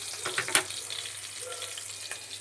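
Tomato sizzling in hot oil in a pan at home, a soft, steady frying hiss with a few sharper crackles and pops near the start, fairly quiet and with no talking.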